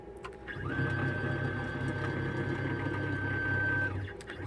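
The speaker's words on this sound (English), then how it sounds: "Let's turn on our CNC." A small hobby CNC machine powered on through a plug-in Mach 3 controller, giving a steady motor hum with a sustained high whine that starts abruptly and runs evenly for several seconds before stopping, close and fairly loud with no talk.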